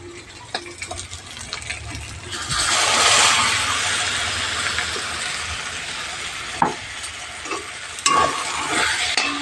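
Ground poppy seed paste hits a hot pan and sizzles loudly, a steady hiss swelling after a couple of seconds with scattered spatula scrapes and clinks, no talking.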